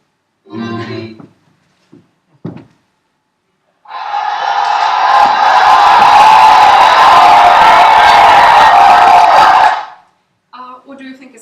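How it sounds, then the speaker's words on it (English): A group of players in a theatrical live-action roleplay erupts in loud, sustained cheering and whooping for several seconds, bracketed by brief talking before and after. "Cheering. Yeah, we won."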